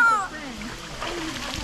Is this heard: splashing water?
yes